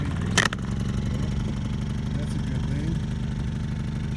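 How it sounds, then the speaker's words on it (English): A portable generator at an off-grid greenhouse build fires after a couple of pull-cord yanks, a sharp rattling start followed by a steady, loud, close idling drone that continues to the end. "generator fired up"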